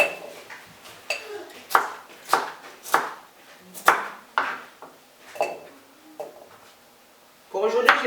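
A knife chops fruit for a fruit salad on a board, giving about a dozen sharp, evenly spaced cuts, each with a slight ring. A voice speaks over the cutting.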